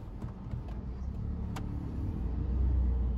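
A Maruti Swift with a Dual Jet petrol engine drives on a test drive, heard as a steady close-up cabin engine and road rumble that swells a little louder toward the end.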